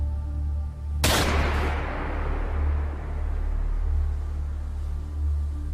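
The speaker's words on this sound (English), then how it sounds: "The shot seemed incredibly loud" A single loud gunshot from a Beretta pistol cracks out about a second in, then a long rumbling decay over a low steady drone.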